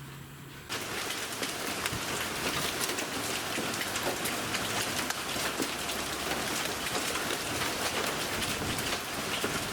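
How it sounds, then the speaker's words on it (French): A hard hailstorm pelting a front yard, a dense, continuous loud patter of stones striking surfaces that begins abruptly and then roars steadily with no voices. "voici un dur orage de grêle dans ma cour avant"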